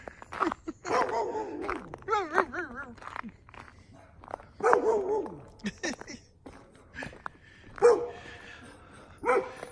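A dog barks and yips in short bursts near its coop, mixed with whimpers and footsteps, while a person talks nearby.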